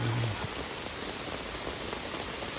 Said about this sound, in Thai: บรรยากาศกับฝนตกฝนตก แห้งพอสมควรเลย บริเวณพุทธสถานภูด่านหลวง